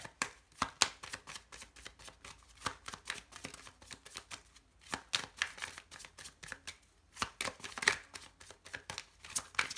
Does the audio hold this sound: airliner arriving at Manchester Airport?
no